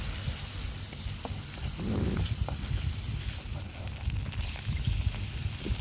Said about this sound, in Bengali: আদা রসুন বাটা দিয়ে দিচ্ছি,